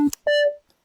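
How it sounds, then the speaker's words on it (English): A square wave synth tone from the Vital synthesizer gives a short bright buzzy blip, then a held note of about a third of a second that cuts off cleanly. "Square wave, I really like these."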